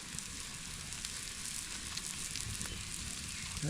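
Hamburgers and potatoes sizzle over an outdoor campfire in a state park, a steady, even hiss with faint crackles running throughout, no voices.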